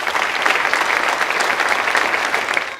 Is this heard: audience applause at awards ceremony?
yes